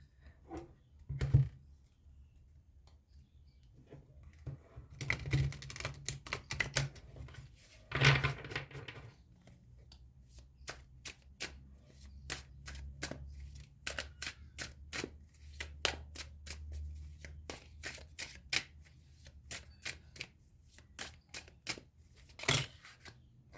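Crisp, irregular snaps and riffles of tarot cards being shuffled close by, in short bursts with brief pauses, no talking.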